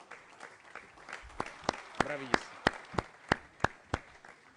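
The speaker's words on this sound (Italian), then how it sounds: "Con un applauso per questa" Applause at an Italian interparliamentary conference on fighting organised crime; a modest crowd clapping while a few loud, distinct individual claps ring out in a regular rhythm, and a voice cries out briefly over it.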